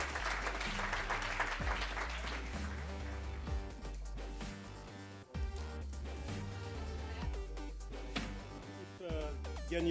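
An audience applauds at a business school trophy ceremony, the clapping blended under loud music playing continuously throughout.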